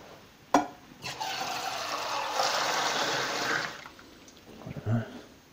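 Water pours into a pot for a Mini Trangia camping stove, a steady splashing stream running for about three seconds after a sharp clunk, then a few faint knocks.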